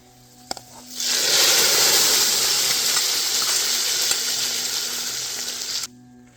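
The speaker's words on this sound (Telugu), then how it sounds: "ఇప్పుడు తాలింపు వేసేద్దాం." A tempering of mustard seeds, dried red chillies and curry leaves drops into hot oil and bursts into a loud, sustained sizzle for about five seconds before cutting off, cooked outdoors at a farm house.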